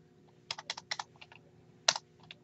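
A computer keyboard is typed on in short bursts of distinct, crisp keystrokes, close and fairly quiet, in a brief run with a few separate clacks after a pause.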